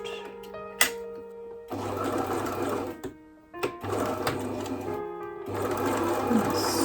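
Sewing machine stitching across a quilted wallet, running in three steady bursts of motor hum and rapid needle clatter separated by brief pauses, close and fairly loud.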